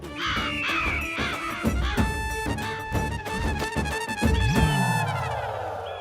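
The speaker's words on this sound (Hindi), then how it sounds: "आंखें खोलिए, कौवे आ गए।" Several crows called in with food caw over and over, their harsh calls overlapping in a loud, busy chorus close by.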